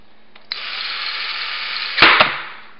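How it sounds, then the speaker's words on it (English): A power drill drives a screw into a rope clamp: a steady high whine for about a second and a half, then a louder strained burst and a sharp click as the screw seats, with no talk. "I'm just going to drive these four screws in all the way."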